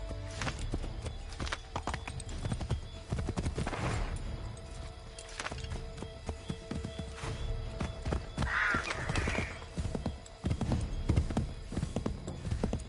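A horse in Assassin's Creed 3 clip-clops along at a steady walking rhythm, close and clear, with a brief whinny partway through over low in-game ambience.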